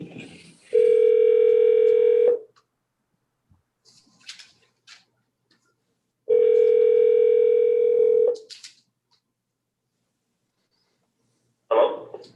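Two long, steady telephone dial tones each last about two seconds, separated by short clicks and faint bumps, heard while a caller is phoned into a board meeting; a short burst of noise ends the clip.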